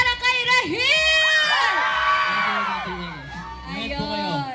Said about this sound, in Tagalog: Isa pang hiyawan para kay Rahil!